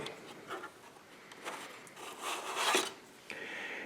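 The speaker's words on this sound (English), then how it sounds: "You can just use those to pull the hard drive out." PlayStation 4 hard drive being pulled out of its bay by two small ridges, a faint close scraping and rubbing of plastic sliding in several soft strokes, quiet and without talk.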